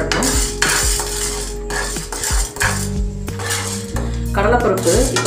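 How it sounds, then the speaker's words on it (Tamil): Chana dal dry-roasting in a pan for white chana sundal, with steady clinks and scrapes of a spoon against the metal as it is stirred, fairly loud and close, with a low hum beneath. "அதில் கடலைப்பருப்பை போட்டு நம்ம வறுத்துக்கலாம்."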